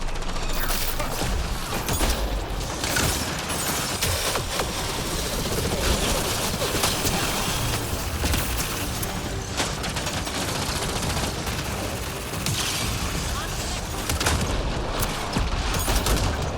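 Rapid, continuous gunfire from a firefight in Mass Effect Andromeda, dense bursts layered with mechanical clatter, loud and sustained throughout with no talk.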